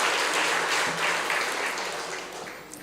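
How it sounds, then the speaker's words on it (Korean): A church congregation applauding during a Sunday afternoon service, a full burst of many hands clapping at once that slowly thins and fades over a few seconds. "박수 한번 보내주세요."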